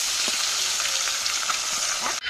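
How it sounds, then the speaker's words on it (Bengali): Potatoes fry in a pan ahead of a magur fish curry, producing a continuous, close, dense sizzle of hot oil with a few faint stirring touches, ending in a sudden break. "এখন আলু ভাজা হচ্ছে"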